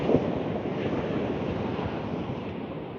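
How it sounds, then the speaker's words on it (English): Large sea waves break and surge onto the shore of the Holderness coast, a continuous loud, broadband wash of surf with wind buffeting the microphone throughout. "Got some fairly big waves coming in every now and again."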